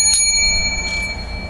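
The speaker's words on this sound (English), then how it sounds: "Company makes the hotel bell." Hotel desk bell struck twice in quick succession, bright metallic dings with a long ringing tail, close and clear with no talk over it.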